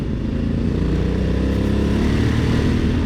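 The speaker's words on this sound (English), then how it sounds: "It's like that exhaust is tuned perfectly to make you feel like you're riding a manly bike." A 2021 Honda Africa Twin Adventure Sports motorcycle's tuned exhaust roars loud and close as the rider opens the throttle to overtake a van, a steady, rising engine note with wind rumble and no talk.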